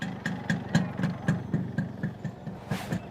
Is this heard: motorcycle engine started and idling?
yes